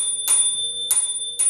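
Three short bright dings from a small e-bike bell, evenly spaced, each ringing briefly and fading quickly, with a faint steady tone in the background.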